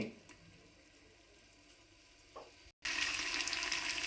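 Ginger garlic paste frying in oil in a pan for chicken pulao, a soft sizzle that swells into a loud, bright hiss after a brief silent cut.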